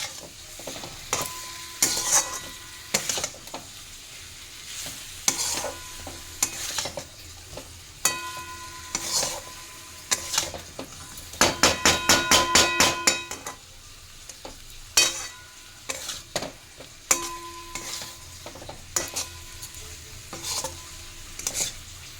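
Papaya and potato pieces frying in a pan for a spiced kasha, stirred in repeated scraping strokes over a low sizzle, with a faster burst of clattering stirring midway.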